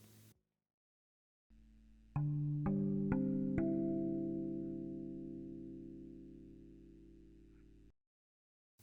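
A steel tongue drum plays intervals without the middle note: four quick metallic strikes land in a row, then the tones ring on together and fade slowly over several seconds in a quiet room.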